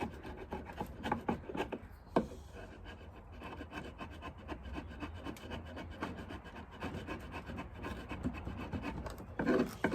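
A chisel scrapes and rasps along the wooden underside of a sewing machine table, a steady close run of rough strokes with a few sharper scratches and no talking.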